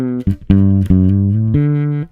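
A distorted electric bass plays an opening riff, a few sustained, sliding notes ending on a higher held pitch, loud and close with no voice.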